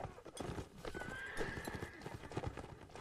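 Light horses gallop in a Mount and Blade Warband battle between Nords and Sarranids, with rapid hoof clip-clops and a brief whinny amid distant battle noise.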